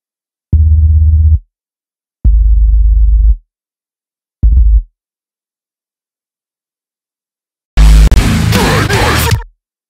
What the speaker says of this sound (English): this plugin produces a sine synth, so simple sine wave synth, as you can hear